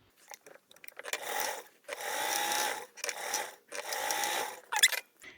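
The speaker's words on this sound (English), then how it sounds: "we're going to sew that together again at roughly 3/16 of a seam allowance" A sewing machine stitches tote bag fabric in three sustained runs of even whirring, each about a second long and separated by short pauses with small handling clicks, close up and without talk.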